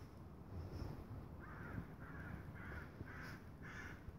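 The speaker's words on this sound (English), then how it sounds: "There are crows too." Faint crows caw several times in a steady series of short harsh calls, distant against a low rumbling outdoor background.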